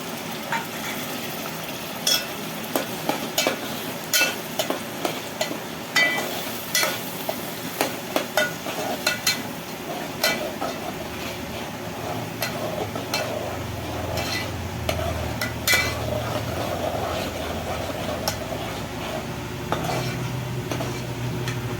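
Masala spices crackle in hot oil as a spoon scrapes and clinks against the pan, repeated stirring strokes over a low steady sizzle.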